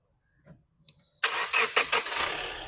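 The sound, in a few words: Hyundai Creta 1.4 diesel engine starting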